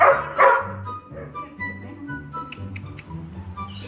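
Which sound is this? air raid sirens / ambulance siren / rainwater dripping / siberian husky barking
siberian husky barking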